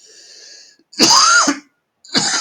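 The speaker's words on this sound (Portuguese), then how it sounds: "desculpa aí pela tosse" Two harsh, loud coughs burst out close by, separated by a short silence, from someone pausing mid-lecture.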